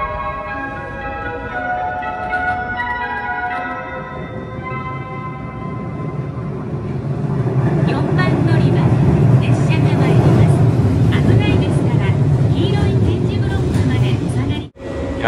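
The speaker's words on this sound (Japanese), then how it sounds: "4番乗り場に列車が参ります" A JR West train rumbles into platform 4 of a Japanese station, its low roar growing louder and closer while a tone chimes early on and Japanese announcements play.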